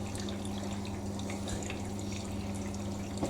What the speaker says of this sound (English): on the main wash, we're filling with hot water.